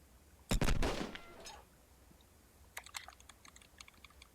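Gunfire in Arma 3 with a Mass Effect mod: one loud, ringing burst near the start that tails off over about a second, followed by a scatter of faint, sharp clicks.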